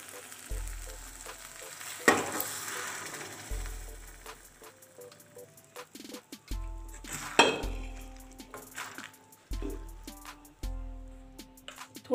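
Boiled chickpeas are stirred into a sizzling fried masala in a pan, with a steady frying hiss under repeated scrapes and clinks of a metal spoon against the pan and a few low thuds.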